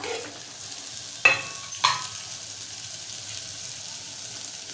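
A spoon stirs sprouted chana masala in a pan, giving two sharp scraping clatters early on over a faint, steady sizzle, then quieter stirring noise.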